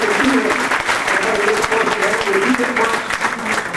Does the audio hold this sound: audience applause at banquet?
yes